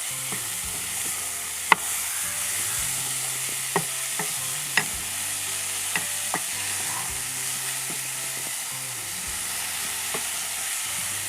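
Four chopped onions frying in a pan, giving a constant loud sizzle with occasional sharp taps and scrapes of a spoon against the pan, close up and with no voices.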